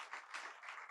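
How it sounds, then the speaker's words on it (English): Audience applause for Terry Kemple at the 2024 Brandon pastors luncheon: a brief, dense burst of many hands clapping together, steady and fairly close, with no voices over it. "Let's give him an applause"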